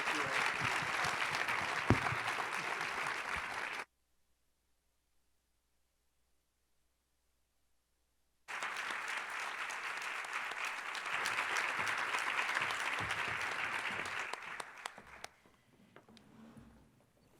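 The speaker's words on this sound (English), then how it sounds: "Can we give Dr. Collins a round of applause?" An audience at a health summit morning session applauds in two bursts broken by several seconds of silence. The clapping is brisk and steady, then thins out and fades near the end.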